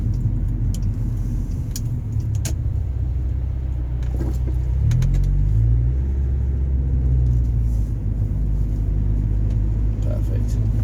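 A car engine rumbles steadily close by, swelling into a louder low drone as the car pulls away in drive, with a few light clicks and jingles early on.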